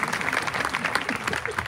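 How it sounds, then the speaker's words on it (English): Applause at a high school graduation ceremony, a dense patter of many hands clapping steadily from a crowd, continuous and fairly loud throughout. "give her a huge round of applause."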